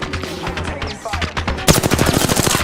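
Fast automatic gunfire from a video game rattles close and loud in quick rhythmic bursts, turning denser and harsher partway through.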